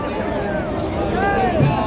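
Crowd babble at the palkhi procession in Jejuri, a dense murmur of many voices with a close voice speaking over it and a faint whistle-like tone drifting through.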